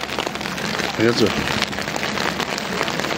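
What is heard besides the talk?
rain and sleet falling at Kedarnath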